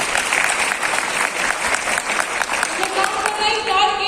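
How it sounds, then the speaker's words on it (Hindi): Audience at a Smart Value gathering in India breaking into loud, continuous clapping that fills the whole stretch, with a voice rising near the end. "दोस्तों ताली होना चाहिए"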